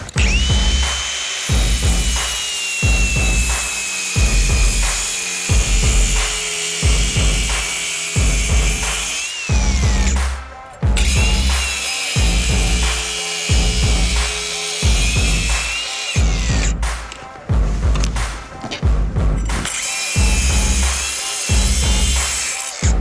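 A Milwaukee M18 cordless angle grinder cuts into a brick, a loud high whine broken by repeated grinding bursts and short pauses as the disc bites, spins down and restarts close up.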